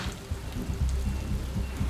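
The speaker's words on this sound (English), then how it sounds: "A thunderstorm suddenly appears on the horizon." Rain from an approaching thunderstorm patters steadily over a construction site, with low rumbling underneath, a continuous moderate wash with no voices.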